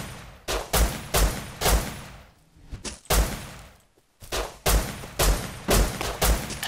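Repeated bursts of gunfire in the survival video game Rust, loud close shots arriving in irregular clusters with brief pauses between volleys, no talk over them.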